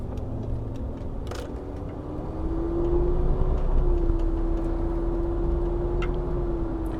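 A 1972 Mercedes-Benz 280SE 4.5 sedan with a V8 driving along, heard from inside as a low steady engine hum that rises slightly in pitch and loudness midway, with faint ticks and road rumble beneath.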